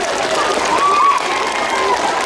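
Children clap in a burst of applause at a school event about a road crossing, with crowd noise and voices mixed in, sustained and fairly loud throughout.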